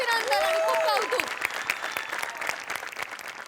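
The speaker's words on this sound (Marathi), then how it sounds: "सगळ्यात आधी hair makeup art department costume department सगळ्यांसाठी टाळ्या" Audience applause for a comedy show's hair, makeup, art and costume departments, starting under a voice that trails off, then a steady wash of clapping that thins toward the end.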